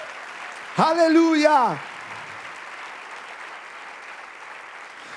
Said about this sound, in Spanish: Vamos, dale ese aplauso al Rey de Reyes.